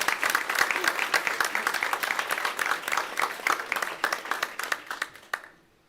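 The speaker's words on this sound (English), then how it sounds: "So let's give them a round of applause." A school board meeting audience claps for the year's retirees, a dense round of applause that thins into fewer, sharper individual claps before stopping abruptly near the end.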